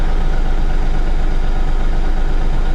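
A Bobcat tractor engine idles steadily with a deep, even low rumble, close and loud, with no voices over it.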